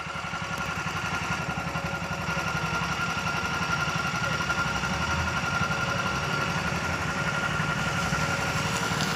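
Motorcycle engine idling close by outside the government hospital in Kandukur, a loud, steady chugging rumble with a fine rattling vibration that holds unbroken throughout, with no voices.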